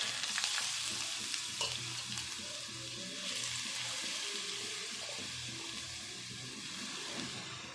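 Grated carrots frying in ghee in a pan for carrot halwa give a soft, continuous sizzle with occasional stirring scrapes and faint clinks, fairly quiet and close.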